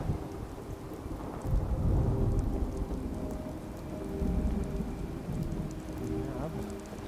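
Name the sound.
rain and thunderstorm in Fallout 4 Far Harbor video game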